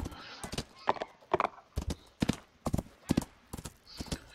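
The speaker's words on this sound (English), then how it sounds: "let's go hop on our horse and go for a ride" Horse hooves clip-clopping at a steady ride in the Rising World video game, a regular rhythm of close, distinct strikes with no talk over them.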